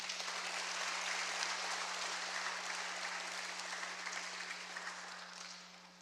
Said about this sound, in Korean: 박수 치셔도 됩니다